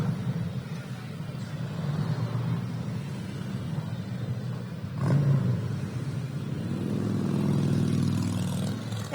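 Harley-Davidson motorcycles from a Harley owners group rumble past at a Veteran's Day parade, a low throbbing engine drone that swells as a bike revs nearby and settles into a steady growl.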